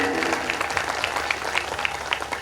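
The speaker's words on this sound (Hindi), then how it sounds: "जोरदार तालियों से संत का स्वागत करें" Short burst of audience clapping welcoming a saint at a devotional gathering in Dhaneti Gujarpura, Bareilly, with dense even claps and a faint voice-like hum beneath.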